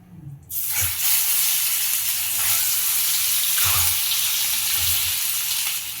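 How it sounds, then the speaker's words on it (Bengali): Eggs slide one by one into hot oil, setting off a sudden loud sizzle that swells and then holds as a steady, close crackling hiss with soft stirring taps underneath, no talking. "তো দেখুন আমার তেল গরম হয়ে গেছে। এবারে আমি ডিমগুলো এক এক করে দিয়ে দেবো।"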